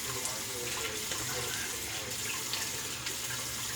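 Cold tap water runs steadily into a sink as a razor is rinsed, a continuous close splashing wash with faint clicks of the razor against the stream.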